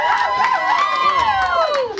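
A crowd at a live comedy event cheers and shouts loudly for a performer, giving a dense, sustained roar of voices with whoops rising above it.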